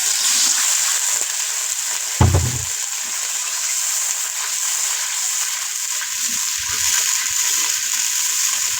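Spice paste with chopped onion frying in a pan, a steady close sizzle throughout with a brief louder clatter of stirring near the start and faint scraping later.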